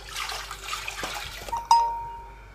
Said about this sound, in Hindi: अब जी इसमें हम थोड़ा सा पानी डालेंगे